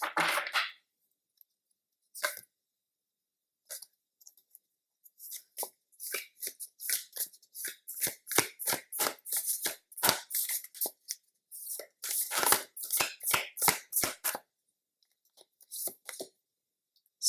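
Tarot cards are shuffled by hand in quick riffling bursts, loud and close, with short gaps between rounds before a dense run of rapid flicks and slaps in the middle.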